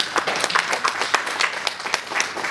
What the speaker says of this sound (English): Please give him a better hand of applause than that.